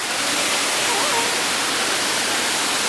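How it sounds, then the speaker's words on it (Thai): A small waterfall at Kaeng Yui in Vang Vieng, Laos, pours in a steady, dense rushing roar that fills the whole moment without letup. "อันนี้คือน้ำตกจิ๋ว"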